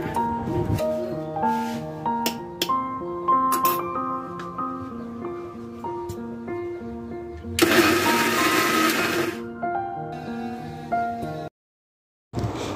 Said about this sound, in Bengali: তারপরে আবার আমি ব্লেন্ডার করব।